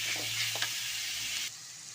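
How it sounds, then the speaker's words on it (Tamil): Ripe tomatoes sauté in a pan for crab gravy, a loud, close hiss and sizzle with a brief stir scrape, dropping suddenly quieter near the end of the short stretch; no talking. "இப்போ தக்காளி நல்லா வதங்கிடுச்சு"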